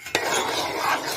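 Bombay halwa being stirred in a pan, short close scraping with a faint sizzle, one sharp utensil knock at the start, no voices.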